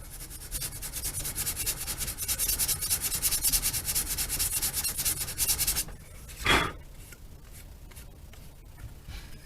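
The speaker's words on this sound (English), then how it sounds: "Just sand at a nice shallow angle until you have that." Sandpaper rubs at a shallow angle along the trailing edge of a small model plane wing. The scratchy, steady strokes run for about six seconds, then a brief louder scrape follows before it goes quieter.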